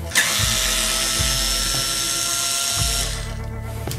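A cordless power screwdriver backs out Torx 20 screws from a Siemens IQ700 washing machine, giving a loud, close whine that runs steadily for about three seconds with small pitch dips, then stops abruptly.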